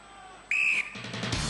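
A single shrill referee's whistle blast starting an event on the Gladiators UK 1998 series, sharp and steady for about a third of a second, followed by rising crowd noise and general arena rumble.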